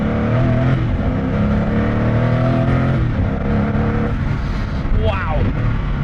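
A turbocharged Koenigsegg Agera pulls hard under acceleration, its engine note climbing steadily and loud throughout, with a brief whistling rise near the end.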